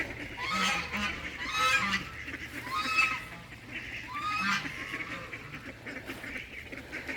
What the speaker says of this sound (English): we've got a duck fight going on